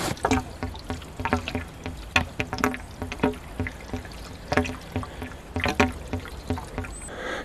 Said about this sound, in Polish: Spuszczam wodę. W bębnie słychać, jak bulgocze.